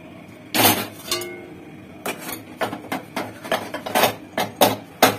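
Vegetable curry with red, green and purple vegetables is tipped from a wok into a metal plate, giving irregular metallic clanks, scrapes and clinks that build into a busier clatter toward the end.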